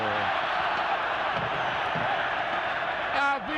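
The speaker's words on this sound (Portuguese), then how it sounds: "A vibração da torcida do Palmeiras é contagiante." Palmeiras supporters roar in a packed stadium during a match against Flamengo, a dense, steady crowd din filling the air without pause, with a brief whistle-like tone near the end.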